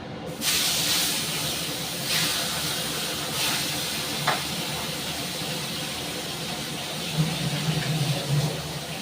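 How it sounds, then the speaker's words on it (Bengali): Fish frying in hot oil in a wok gives a steady, close hiss of sizzling throughout, with a few brief sharp spatters and crackles rising above the constant fizz. "এটা মাছটা এখন ভাজা করে নিই। কড়াইয়ের তেলটা গরম হয়ে গেছে।"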